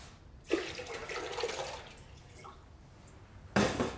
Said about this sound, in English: I put some water in a pot.